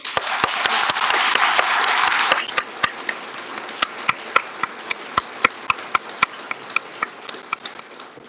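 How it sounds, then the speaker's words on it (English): Applause for a newly sworn-in class of assistant district attorneys at a Philadelphia District Attorney's Office ceremony, a dense burst of clapping for about two seconds that dwindles into a few scattered, sharp individual claps. "One last round of applause to all of you"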